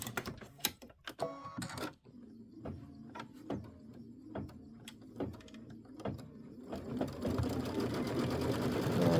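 Sewing machine stitching a Kimberbell Hello Sunshine traditional pieced quilt block, with short runs of rapid mechanical clicking and stitching broken by pauses, close and quiet, ending in a rising whir.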